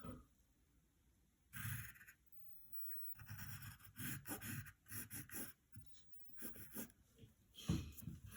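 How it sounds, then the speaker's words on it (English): A pen or pencil draws Shredder's claws on paper, quiet close strokes in short bursts of scratching with brief pauses between, faint and without talk. "now we need to draw 2 claws coming out of it"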